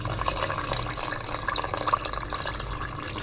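Water poured into a cooking pot of meat with bay leaves as a stew is brought toward a boil, a steady close splashing and trickling stream that runs throughout without pause.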